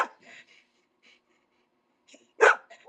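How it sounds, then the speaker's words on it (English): A dog gives a single loud, close bark near the end, preceded by a few soft breathy snorts and sniffs with quiet gaps between them. "I could hear her barking, and then she barks through the phone."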